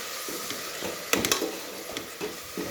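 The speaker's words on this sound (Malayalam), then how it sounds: "എന്നിട്ട് ഇളക്കി കൊടുക്കാം." Onions sizzle in a pan for chicken curry while a utensil stirs them, giving soft scraping strokes and a few sharp clinks against the pan over a steady frying hiss.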